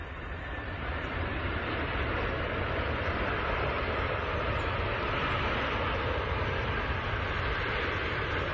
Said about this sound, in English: Here is the landing of a heaviest airplane ever built, Antonov 225.